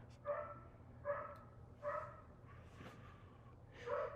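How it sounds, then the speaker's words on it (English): A dog that is not the household's own barks from some distance away, giving about five separated woofs at an uneven pace, faint against a low background hum. "there's a dog barking and lots of yelling happening"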